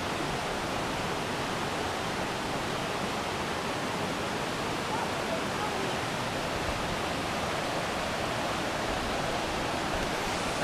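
Waterfalls and river cascades at El Chiflon in Chiapas, Mexico, roar as a constant broadband rush of falling water, loud and unbroken from start to finish with no other sounds standing out.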